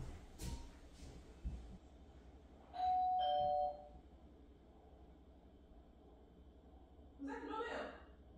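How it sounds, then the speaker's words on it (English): A two-tone doorbell chime rings once in a home during a furniture delivery, loud and clear against a quiet room, with faint voices and household noise before and after. "But they just rang the doorbell."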